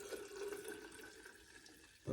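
Evapo-Rust is poured into a jar holding kickstand parts, a faint, steady liquid trickle and splash close by, ending in a brief louder knock.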